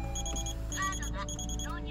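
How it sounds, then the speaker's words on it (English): A Volvo S80 T6 Executive 3.0 petrol AWD's parking sensor beeps in reverse, a rapid regular series of high electronic tones under an engine hum with a voice speaking over it. "parking sensor was beeping actually when I put in reverse"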